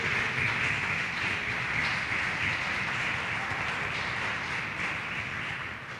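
A church congregation stands and claps together in a broad, sustained roar of applause that holds steadily for several seconds before easing slightly at the end.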